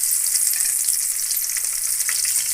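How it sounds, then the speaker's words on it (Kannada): Mustard seeds, split chickpeas, black gram lentils and dried red chilies sizzle and pop steadily in hot oil in a pan, a loud, close, continuous crackling frying sound with no voices. "ಸ್ವಲ್ಪ ಸಾಸಿವೆ ಹಾಕೋಣ, ಕಡಲೆಬೇಳೆ, ಉದ್ದಿನಬೇಳೆ, ಒಣಮೆಣಸಿನ್ಕಾಯಿ ಹೆಚ್ಚಿಟ್ಕೊಂಡಿದ್ದೀನಿ."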